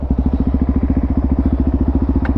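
A supermoto motorcycle engine idles close by with a loud, even thumping pulse, roughly a dozen beats per second, steady throughout.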